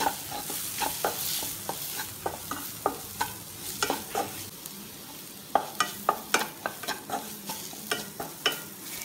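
Chilli powder and coriander powder masala stirred in a hot pan, a steady soft sizzle broken by repeated sharp scraping strokes of a spoon, close and fairly loud, with no talking.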